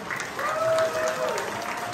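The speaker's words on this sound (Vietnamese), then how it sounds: "xin quý vị cho một tràng pháo tay chào mừng cho tân nhân biểu tiểu bang California, anh Tạ Đức Chí" A crowd claps warmly at an evening campaign fundraiser in California, welcoming a state assemblyman. The applause is dense and continuous across the brief moment, swelling slightly in the middle.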